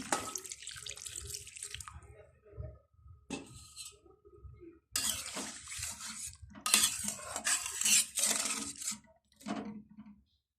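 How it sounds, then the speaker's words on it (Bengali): Water pours from a tap and splashes into a pot of radish and fish curry, with metal clinks of cookware and short pauses between the pours. "এখন আমি এখানে পরিমাণ মতো পানি দিয়ে দেবো"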